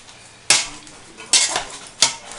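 A metal potato masher strikes down into cooked potatoes in a pot, three sharp clanking impacts spaced roughly a second apart, each followed by a short scraping squish, close and fairly loud with no voices.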